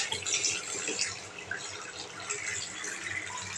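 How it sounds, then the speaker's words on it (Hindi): An opened water tap on a broken mixer runs in a steady, hissing stream with a few splashy drips. The flow is faint and close, with no voices. "ये को ओपन करेगा तो पानी आएगा"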